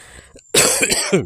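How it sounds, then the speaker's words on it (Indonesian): A single hard cough close to the microphone, a sharp burst with a rough tail, preceded by a faint breath. "Maaf loh batuk"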